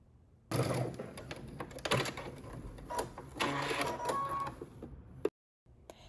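A sewing machine stitches elastic in quick, continuous bursts of mechanical stitching, fairly close, pausing briefly before a final short whir.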